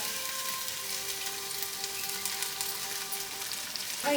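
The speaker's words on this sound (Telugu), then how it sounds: "ఎర్రగా వేయించుకోవాలి." Sliced onions and green chillies fry for a rural-style village chicken biryani, giving a steady, close sizzle like light rain that ends with a brief clatter from stirring.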